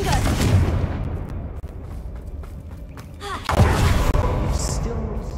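A Confringo fire spell cast in Hogwarts Legacy gives a couple of loud thumping blasts with crackling bursts amid game combat noise, while a voice speaks briefly.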